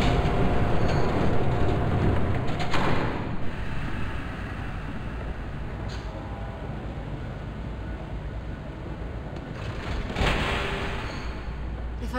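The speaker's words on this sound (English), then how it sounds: "There's a train coming." A train approaches in the Batman: The Telltale Series video game, a heavy low rumble that is loud from the start and eases slightly, with brief bright crashing bursts partway through.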